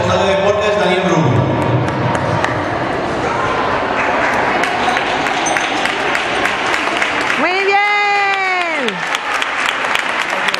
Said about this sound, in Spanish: ¡Venga, dale un aplauso!